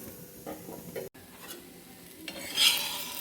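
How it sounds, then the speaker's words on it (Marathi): Leftover bhaji batter cooks in oil in a pan, a low steady frying hiss with light spatula scrapes and a brief utensil tap, rising into a brighter sizzle near the end. "आता हे दोन मिनटाकरता मी भाजून घेणार आहे"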